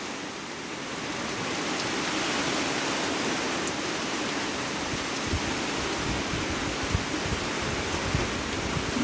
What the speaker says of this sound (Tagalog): Ayan na friendship, umulan na talaga. At ang lakas ng hangin.